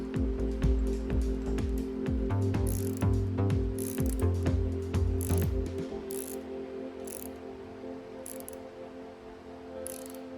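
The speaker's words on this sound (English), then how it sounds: "I then secured the rest of the mounting bolts" Ratcheting clicks from tightening the mounting bolts of a Craftsman 51871 bench vise onto a metal bench, fast bursts of close, loud ratchet strokes for the first half, then sparse metallic taps and quiet handling.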